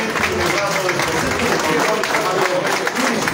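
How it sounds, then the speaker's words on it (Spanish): Audience applause at a municipal inauguration ribbon cutting in Nativitas, dense steady clapping from a gathered crowd filling the whole moment at even loudness, with some voices mixed in. "Y con el aplauso de todos los presentes"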